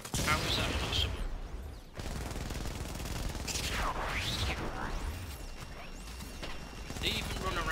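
Rapid gunfire from enemy soldiers in a war shooter game, bursts of automatic shots and crashing impacts scattered through busy combat noise.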